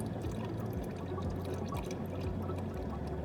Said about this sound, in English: Here comes some of the mix. It's getting a little cloudy. You can also kind of hear the bubbles.